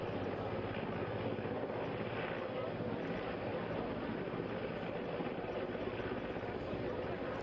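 An Indian Army helicopter hovers during a flood rescue over a swollen river after Cyclone Yaas, its rotor and engine giving a loud, steady, close roar with a wind-like rush that never lets up.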